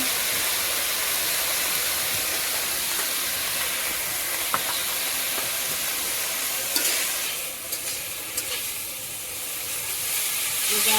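Onions hiss and sizzle loudly in hot oil in a home kitchen pan, a steady close frying crackle that carries on without a break.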